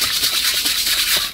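Sand being sifted through a sieve while hunting for diamonds and gems, a steady close hissing, rubbing rasp with soft rhythmic pulses of shaking, continuous and fairly loud with no talk.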